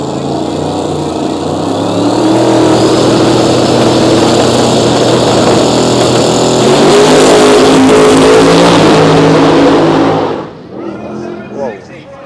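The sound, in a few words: Corvette drag racing car accelerating down the strip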